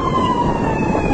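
An ambulance siren holds a steady wailing tone at the scene of a fire in an abandoned building in Avcılar, heard over loud, noisy street ambience.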